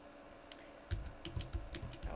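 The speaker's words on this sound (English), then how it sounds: "hold down the shift key and press the plus sign, which is next to the backspace" Several crisp keystrokes on a computer keyboard, close and quiet, tapped in an uneven quick rhythm after a brief pause.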